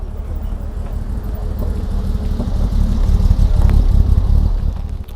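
Low, steady rumble of a Jaguar XJR 575, an aluminium-bodied X351 XJ, pulling away at a Jaguar club meeting at Brooklands in the rain, the engine drone swelling slightly before fading, with wind noise.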